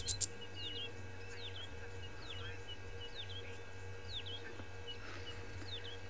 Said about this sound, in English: I can only hear the birds.